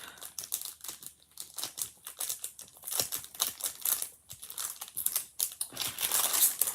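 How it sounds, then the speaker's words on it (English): Backing peeled off a strip of sticky foam tape during a craft project, close crackly crinkling and ripping in quick irregular bursts, growing louder toward the end, with no talk. "Let's get our little foam tape off."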